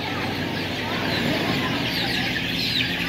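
A flock of chickens being caught for vaccination clucks and squawks continuously, a dense, busy chorus close by with a faint voice beneath.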